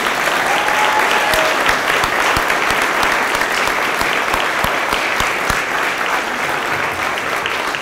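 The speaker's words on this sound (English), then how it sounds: "Please join me in giving them one more round of applause." Sustained audience applause at a college employee service recognition award ceremony, a dense wash of many hands clapping steadily for the whole stretch, with no voices standing out.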